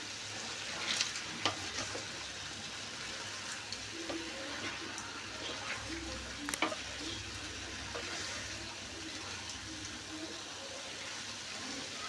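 Chicken thokku biryani masala with salt cooks on a high flame, giving a steady soft sizzle and bubbling with occasional stirring clinks, close and without talk.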